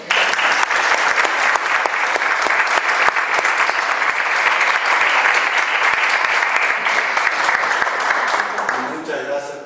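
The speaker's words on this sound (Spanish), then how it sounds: "Un aplauso le damos al padre." Audience applause for a priest at the close of a talk on spirituality and morality, steady dense clapping for nearly ten seconds before thinning out at the end, with faint voices underneath.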